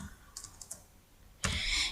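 A few quick computer keyboard keystrokes tap out while a value is entered into a chart axis field in spreadsheet software, then a louder, denser burst of clicking follows near the end, close and without speech.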